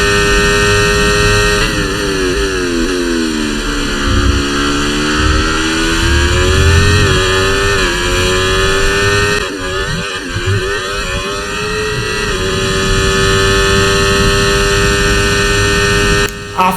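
Formula 1 race car engines in the F1 24 video game at Monza, a steady loud engine drone with rising and falling pitch sweeps as cars accelerate and shift, continuous throughout.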